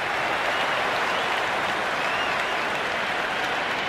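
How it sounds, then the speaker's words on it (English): Stadium crowd noise from the Cricket 26 video game, a dense wash of cheering and applause at a cricket ground that stays even and loud throughout, with no voices standing out. "There's a buzz, a real buzz coming from the stands."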